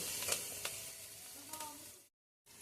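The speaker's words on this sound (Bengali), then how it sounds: "হালকা ভাজা ভাজা হলে পেঁয়াজটা ব্রাউন কালার হলে" Steady sizzling of onions frying in a pan, with a few stirring clicks, then a brief silence before the sizzle resumes.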